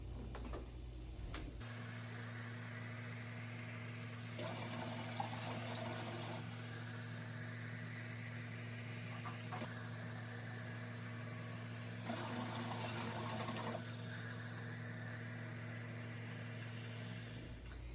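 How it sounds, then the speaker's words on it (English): Water pours into a canner holding quart jars while canning applesauce and apple juice: a steady, quiet trickling and gushing over a constant low hum, with a few louder splashing surges and no voices. "So I'm going to add some more water to my canner here to make sure that both these quart jars are completely submerged"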